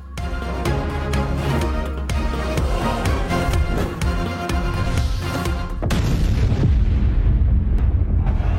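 Heavy bombing in Gaza comes through as loud, dense blasts and booms that keep overlapping without pause and grow heavier and deeper toward the end.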